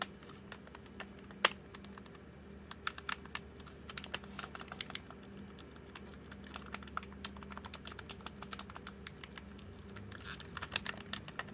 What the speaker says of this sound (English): The buttons feel like it's more dampened